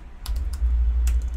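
Keys clatter on a computer keyboard in a few quick, close taps over a steady low hum, with no talking.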